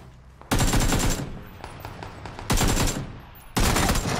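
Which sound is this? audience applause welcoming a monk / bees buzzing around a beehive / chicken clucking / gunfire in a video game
gunfire in a video game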